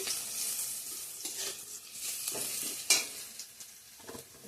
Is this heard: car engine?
no